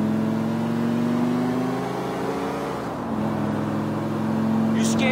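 A car is driven in Grand Theft Auto IV, its engine droning steadily with a brief dip in pitch as it shifts, loud and continuous beneath faint game speech.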